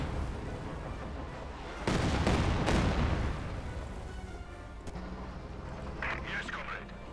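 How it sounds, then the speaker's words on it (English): Rockets and artillery firing in the Company of Heroes 2 strategy game, a heavy burst of booming salvos in the middle, fading into rumbling background battle noise with a commentator talking over it. "Loads of rockets flying through the air."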